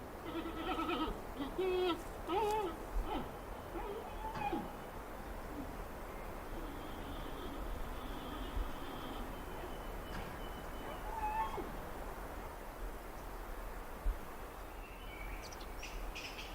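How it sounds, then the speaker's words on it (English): Bleating and chirping calls from a giant panda in the wild, a few wavering cries early on, then a low steady rustling background with occasional faint calls. "the sound of loud bleating and chirping raises hopes"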